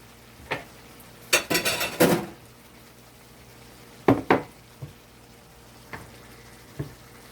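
Cooked mackerel is lifted out of a pan on the stove and plated: a few scattered clinks and scrapes of utensil on pan, with one louder rattling burst, against a quiet kitchen background.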